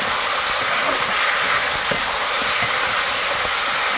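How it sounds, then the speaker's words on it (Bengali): A strongly blazing wood fire under a cooking pot in a village kitchen gives a steady, dense roar and hiss, with scattered faint crackles and pops running through it. "জাল প্রচণ্ড জোরে জ্বলছে, কাঠের জাল।"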